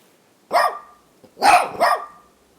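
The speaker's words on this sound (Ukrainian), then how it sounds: "Собаки-сапери допомагають ДСНС у розмінуванні." A mine-detection dog working with demining crews barks three times, close and loud, with short gaps between sharp, separate woofs and no talking.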